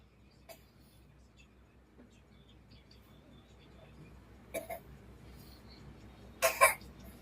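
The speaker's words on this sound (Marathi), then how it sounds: "अरे आपलं खोकलं झालंय" A person coughs at home in the morning: two short, sharp bursts near the end over a quiet, low background hum, with faint room noises before them.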